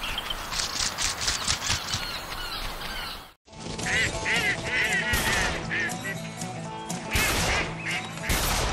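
Ducks quack and honk in the Duck Dynasty hunting game, a flock calling repeatedly and loudly, briefly cut off, then returning with overlapping nasal calls over a busy ambient background.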